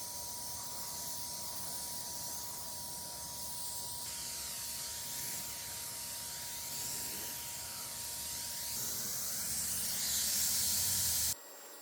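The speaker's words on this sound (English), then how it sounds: "After struggling a little with the sprayer, I was able to get it to work." A paint sprayer hisses steadily outdoors as it coats a small Ethan Allen Classic Manor table. The broad spray carries a thin tonal whine and shifts slightly midway before cutting off abruptly near the end.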